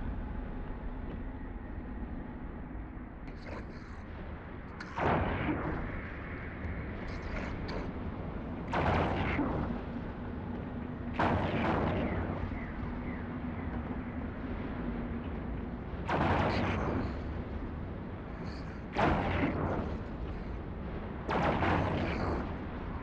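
Ship weapons fire in the space game EVE Online, heavy booming volleys every few seconds, about seven in all, each rising out of a steady engine-like drone.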